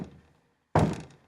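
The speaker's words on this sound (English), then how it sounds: "we want to make extra sure that we're not stomping when you bring your foot" A single heavy thud of a foot stomping on a hard floor, preceded by a fainter knock and a moment of quiet.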